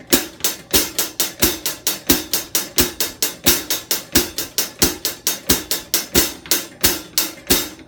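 A drum set plays a steady 4/4 groove, bright regular hits like hi-hat and snare in an even pulse switching between eighth notes and eighth-note triplets, loud and close with no voices.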